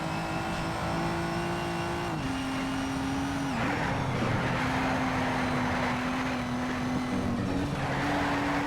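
Race car engines in Need for Speed: Shift drone loudly and steadily during an overtake, the pitch shifting with gear changes and drops, over tire noise, with no voices.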